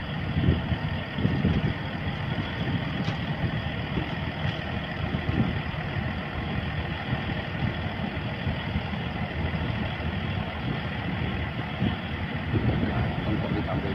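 Diesel generator still running aboard a ship at a dry dock: a steady, droning engine hum with low mechanical rumble, constant in level throughout with no voices.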